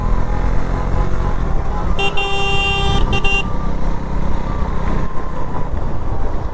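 On a rough hill road near Toranmal in the Satpuda range, a vehicle horn blares for about a second and a half, briefly broken, over the continuous loud drone of a moving engine.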